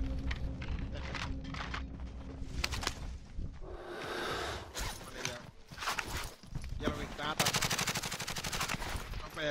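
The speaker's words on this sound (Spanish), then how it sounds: "Están disparando a los otros manes aquí a la derecha" Call of Duty Warzone gunfire crackles as repeated bursts of automatic rifle fire, some close and loud and others more distant, with footsteps and someone talking between the shots.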